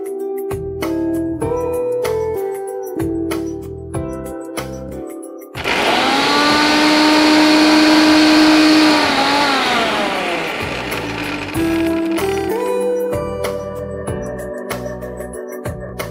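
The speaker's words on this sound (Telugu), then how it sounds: "దీన్ని ఇప్పుడు మనం మిక్సీ పట్టేసుకుందాం." Mixer grinder grinding dry-roasted spices in a jar, a loud steady motor whir that surges in at once, holds for several seconds, then winds down, set between stretches of background music.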